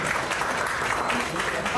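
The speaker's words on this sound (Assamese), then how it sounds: "তাৰ কাৰণে সকলোৱে এটা হাত চাপৰি দিব লাগে" A gym audience at a fitness session claps together briefly, a steady wash of hand claps at moderate level with no clear voices above it.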